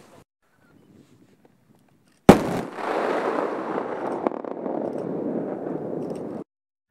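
A controlled ammonite charge detonates on a snowy mountain slope in the Almaty foothills, setting off an avalanche: one sharp, loud blast, then a broad roaring rush of sliding snow that holds steady for about four seconds before cutting off.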